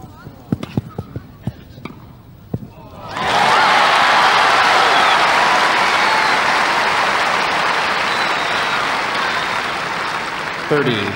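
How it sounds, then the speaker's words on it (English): A Wimbledon crowd of 1987 bursts into loud, sustained applause and cheering after a tennis passing shot, following a few sharp ball hits and quieter moments, with the roar holding steady to the end. "Great cheer for that pass"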